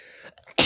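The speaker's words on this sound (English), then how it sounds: "Sneezing all day." A single short, sharp sneeze burst right at the end, preceded by a faint indrawn breath and a brief vocal sound.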